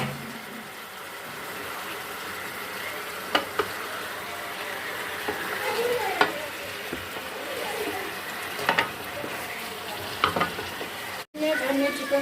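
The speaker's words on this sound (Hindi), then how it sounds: "अब हम चिकन को 2 से 3 मिनट हम फ्राई कर लेंगे अच्छे से।" Chicken pieces fry in a pan for chicken nihari, giving a continuous crackling sizzle for about twelve seconds. Scattered clicks from stirring come through, and the sound drops out briefly near the end. No talk is heard.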